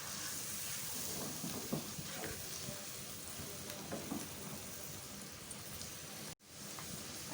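Mutton mince fries in a karahi for a keema aloo dish, giving a steady broadband sizzle with occasional stirring scrapes. The sizzle holds throughout, cuts out for a moment near the end, then returns.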